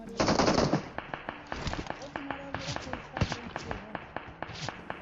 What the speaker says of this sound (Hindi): तभी मेरे पीछे से फायरिंग होती है